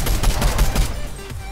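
Rapid automatic gunfire rings out in a video game, a loud, close burst of shots that thins out toward the end.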